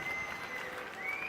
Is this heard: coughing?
no